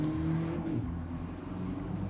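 Race car engine revving in the Gran Turismo 7 video game played on PSVR2, a steady loud droning engine note that shifts pitch slightly as it holds, with no talking.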